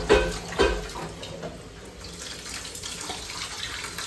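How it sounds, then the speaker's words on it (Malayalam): Rice being washed under a running pipe tap at home gives a steady splash of flowing water, with two sharp louder splashes near the start as the grains are stirred and rinsed. "രണ്ടു തവണ പൈപ്പ് വെള്ളത്തിൽ കഴുകിയതിന് ശേഷമാണ് കേട്ടോ ഞാൻ നല്ല വെള്ളത്തിൽ കഴുകണം"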